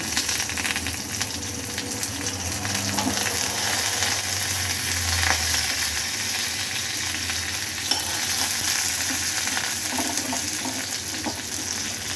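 Continuous crackling sizzle of curry leaves frying in hot oil for a mutton curry, close and steady throughout, with occasional stirring and no talking.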